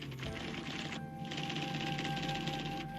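An IBM memory typewriter at IBM Greenock types out corrected text automatically: a steady, rapid mechanical chatter of keystrikes that runs without pause, close and even.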